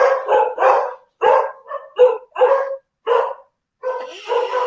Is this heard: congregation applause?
no